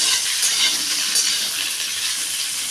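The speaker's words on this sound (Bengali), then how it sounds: "ডাঁটাটা দিয়ে একটু ভেজে নেব।" Vegetable stalks sizzling loudly in hot oil in a pan with already-fried potatoes, a dense steady crackle and hiss close up, with no voices.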